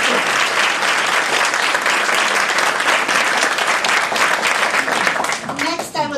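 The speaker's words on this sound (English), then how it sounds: "Could we please have a round of applause for all of the teachers?" Loud, sustained applause from a graduation audience honoring teachers, steady dense clapping that thins out in the final second.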